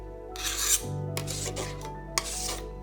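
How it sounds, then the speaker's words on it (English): A spatula scrapes chocolate off a kitchen scraper in a few short, rasping strokes, close and fairly crisp, with a faint steady background hum. "then really scrape it clean"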